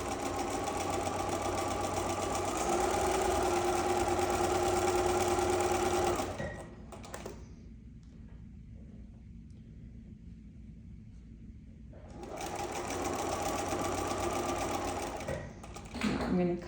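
Sewing machine running steadily while stitching a Christmas gnome table runner, loud and continuous for about six seconds, stopping for a quiet gap, then starting again near the end.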